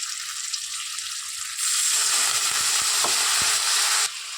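Prawn and spice masala sautéed and stirred in a pan, a loud hissing sizzle that surges suddenly partway through, likely as a splash of water hits the hot pan, with a few faint stirring knocks underneath.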